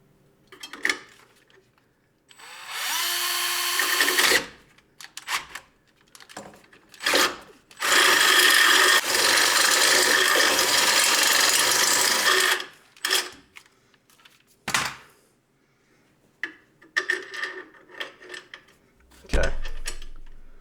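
Short bursts of a right angle drill with a short bit whir during a Jeep LJ suspension install, several spurts of a few seconds each plus one longer run, close and loud, with pauses and clanks between them.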